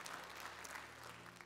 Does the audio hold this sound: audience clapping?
yes